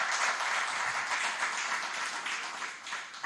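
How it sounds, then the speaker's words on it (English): An audience at a government procurement system launch in Jamaica claps in sustained, dense applause that stays at a steady level throughout, with no one speaking. "Let's give him a round of applause again."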